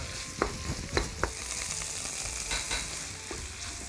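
Paneer bhurji with turmeric, tomato and onion frying in a pan, a steady sizzle running throughout while a spoon scrapes and stirs, giving a few sharp clacks against the pan in the first half.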